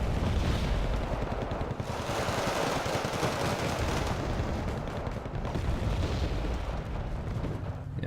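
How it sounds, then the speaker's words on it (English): Mortar and gunfire rumble through a video game battle, a dense, continuous barrage of overlapping booms and rapid shots at steady loudness throughout. "And the Mortar's adding its fire as well"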